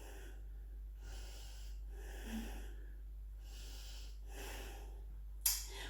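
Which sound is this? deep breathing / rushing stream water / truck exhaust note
deep breathing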